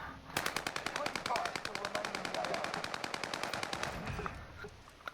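Sustained rapid machine gun fire in the video game Warzone, a dense automatic burst of about four seconds with a steady rhythm, loud and close, then one last single shot, with faint talk underneath.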